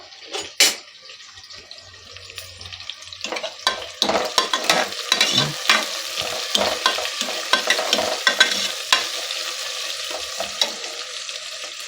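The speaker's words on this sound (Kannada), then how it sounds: "ಮೊದಲು ಶುಂಠಿ ಹೆಚ್ಚಿರೋದು ಹಾಕ್ಕೊಬಿಟ್ಟಿದ್ದೀನಿ ಒಗ್ಗರಣೆಗೆ. ಆಮೇಲೆ ಹಸಿಮೆಣ್ಸಿಕಾಯಿ ಹಾಕ್ಕೊತಾ ಇದ್ದೀನಿ." Chopped ginger and green chillies fry in hot oil for a tempering for a sprouted green moong gravy, with steady close sizzling, stirring scrapes and clinks rising over about twelve seconds and no talking.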